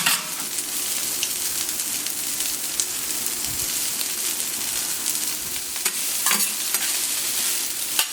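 Smoked pork belly sizzles and browns in a hot pan, a close, steady crackling fry with scattered pops and occasional stirring scrapes, no talking over it.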